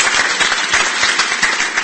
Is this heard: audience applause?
yes